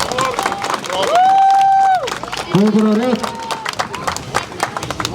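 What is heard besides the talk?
audience clapping at strongman competition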